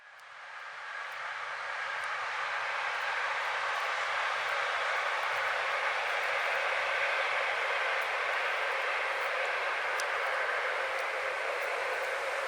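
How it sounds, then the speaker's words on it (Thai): A train passes along a railway beside a field where wild mushrooms grow, giving a steady, loud, broadband rumble and rush that builds in the first two seconds and then holds for the rest of the clip. "เสียงรถไฟค่ะ"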